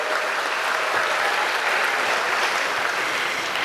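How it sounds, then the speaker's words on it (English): Steady, dense applause from an audience at an eighth-grade summer promotion ceremony, many hands clapping evenly and loudly throughout with no break. "we can clap."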